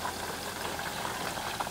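Sauce simmering in a pan on a home stove while chicken fries nearby, giving a steady, moderately close bubbling and sizzling wash with small pops throughout.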